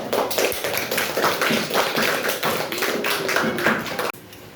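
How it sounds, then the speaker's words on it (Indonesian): A classroom group applauds for group 1, with many hands clapping in a quick, fairly loud and even rhythm that stops abruptly near the end. "Oke, tepuk tangan untuk kelompok 1"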